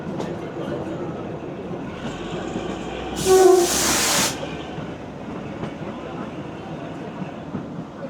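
A train rolls along the narrow-gauge Kalka–Shimla mountain railway with a steady wheel and carriage rumble throughout, and a loud horn blast rings out for about a second midway before the running noise carries on.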